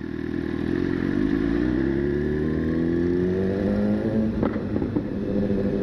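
A BMW S1000RR motorcycle engine runs and rises in pitch as the rider accelerates, loud and close with steady wind rush and a couple of brief clattering bumps.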